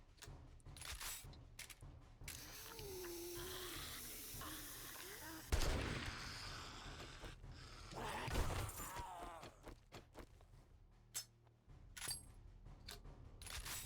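A level 1 pipe shotgun firing in 7 Days to Die, heard as a few sharp, separate bangs spread across a stretch of game noise and background sound.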